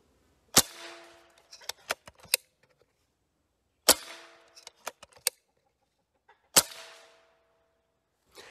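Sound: Benjamin Bulldog air rifle shot without de-ping accessory

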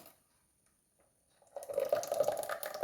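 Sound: pouring batter into a vessel

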